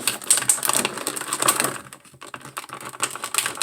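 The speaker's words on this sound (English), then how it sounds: "it has these stretchy, twisty ties right there, which I'm going to cut off right now" Plastic twist ties being cut off a McFarlane Doom Slayer action figure package, a dense run of small clicking, snipping and crinkling taps that dips briefly midway, close and moderately loud.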